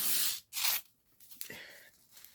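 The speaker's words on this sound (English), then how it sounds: "Right, okay, so I'm going to just score that." Paper scoring on recycled paper for a junk journal: two loud, brief scraping strokes close by, followed by quieter rustling and a short squeak, with no one talking.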